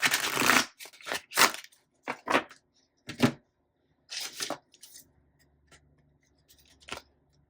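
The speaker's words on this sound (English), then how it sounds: "I'm going to actually shuffle it in 2 chunks and then shuffle it together" A large tarot deck is riffled and shuffled in two separate chunks, with quick papery flutters and soft card slaps in short bursts separated by pauses, close and fairly quiet.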